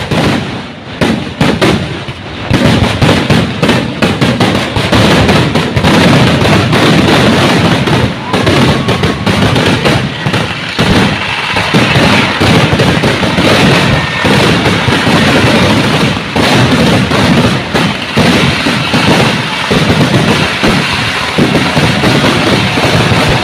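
A sample fireworks display for the Thalappoli festival at Sree Parakkottukavu Bhagavathi temple in Thiruvilwamala, with a loud, nearly continuous barrage of rapid crackling bursts and booms lasting throughout.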